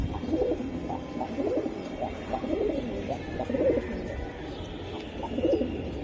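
Shila pigeons kept for sale coo in a close, repeated series of soft throaty calls, one round after another with short pauses, with no other sound.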